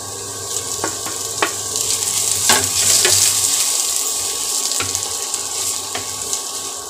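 Chopped cabbage sizzles in a hot pan for street-style veg chowmein, a steady frying hiss with scattered crackles and light clinks of stirring, fairly loud and close, with no voice over it.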